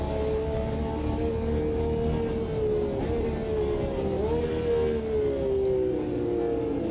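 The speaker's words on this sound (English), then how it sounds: "I like the screaming sound of that V12 that Ferrari is famous for" A classic Ferrari V12 Formula 1 car howls in the AMS2 racing game at Silverstone, a steady high-pitched engine scream with pitch dipping and rising through gear changes, loud and continuous.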